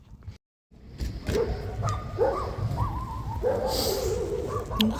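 Dogs bark and yip in short bursts at a moderate distance, over a rumbling outdoor background.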